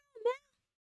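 A single short meow from a cat, rising and falling in pitch, lasts well under half a second and then gives way to silence.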